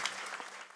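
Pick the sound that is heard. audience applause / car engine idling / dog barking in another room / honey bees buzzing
audience applause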